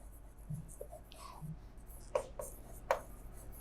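A pen writes on paper during an accounting lesson, with quiet scratchy strokes and a few sharper taps against a faint room background, no one talking.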